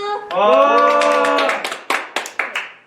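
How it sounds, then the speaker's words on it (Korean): A classroom claps after student groups finish making card news in a citizenship lesson; a held tonal sound comes first, then a short burst of claps that breaks into a few scattered, separate slaps. "자, 박수!"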